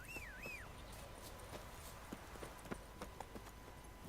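Roach the horse from The Witcher 3 video game trots along with rhythmic clip-clop hoofbeats over a soft game ambience, opening with a brief rising-falling tonal flourish and moderately quiet overall.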